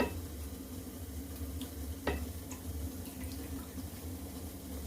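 Suji (rava) batter ladled onto a hot pan gives a steady, close sizzle with faint stirring and scraping sounds and a brief sharp tap near the middle; no one speaks.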